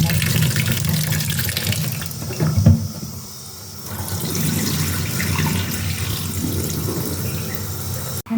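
Tap water runs steadily into a sink while beetroot is washed, a continuous splashing rush with a brief pause and a dip in flow midway, then resuming, recorded up close in a home kitchen.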